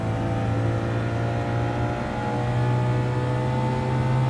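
Subaru WRX engine in Gran Turismo Sport pulling steadily in a sustained drone with a strong low hum and layered harmonics, loud and continuous as the car accelerates along a long straight in third gear, no voices.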